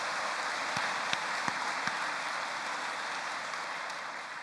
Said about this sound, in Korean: 여러분 격려와 축하의 박수를 보내시면 고맙겠습니다